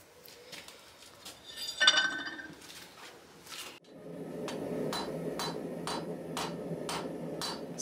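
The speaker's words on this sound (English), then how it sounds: "we're going to start this off by hammering in an indentation" Hammer blows on hot steel forging a blade, a few ringing strikes early on, then a steady run of evenly spaced heavy hits over a low rumble of shop noise, close and loud.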